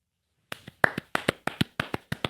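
A single person clapping slowly and deliberately, about a dozen crisp, separate claps in a steady rhythm after a moment of silence, close and dry, with no talking.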